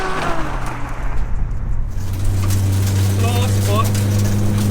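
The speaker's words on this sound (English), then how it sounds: "the Ferrari takes absolutely no prisoners and screams by, once again taking victory by a bus length" An 800 hp rear-wheel-drive Ferrari and a 600 hp all-wheel-drive Subaru race past at the finish line: a loud engine roar rising into a sustained high-revving drone as the cars scream by.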